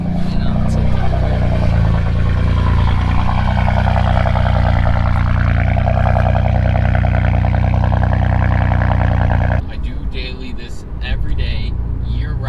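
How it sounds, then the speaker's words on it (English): A car engine on a cold start runs close to the recording, with a loud, steady low rumble through most of the stretch. Its tone shifts and drops in level near the end. "Let's start up the car."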